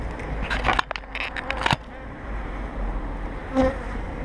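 Steady low buzzing of many honeybees at an open hive in spring drones throughout, with a few brief louder rustles and clicks near the start and one short bright tone later.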